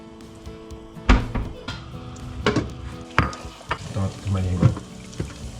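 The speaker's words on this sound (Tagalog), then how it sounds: "Gisa ko lang." Food sautéing in a pan in a home kitchen, a steady sizzle and fry broken by sharp clanks of a utensil stirring against the pan, with a brief word spoken over it.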